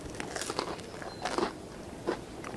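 Crisp bites into a barbecue-baked zapiekanka topped with ketchup, mozzarella and mushrooms give a few quiet, close crunches spaced over a couple of seconds, with no talking.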